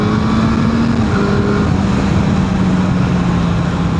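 A Yamaha FZ8 motorcycle engine runs at high revs while being ridden on country roads, a loud continuous droning whine with steady wind roar and a slight shift in pitch partway through.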